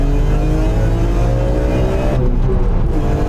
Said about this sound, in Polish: jak słyszę te 6 cylindrów w rzędzie